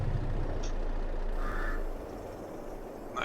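A truck in the Farming Simulator 22 video game on the Big Flats Texas map, with a steady low engine rumble and a brief air-brake hiss partway through, heard alone without talk.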